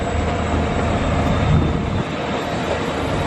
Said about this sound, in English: there goes the Arriva Wales train to Manchester